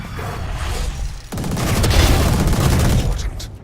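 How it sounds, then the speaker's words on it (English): A swarm grenade from the Valorant video game going off, a loud close burst of crackling explosions that rumbles on after a sudden start. "Placing swarm grenade."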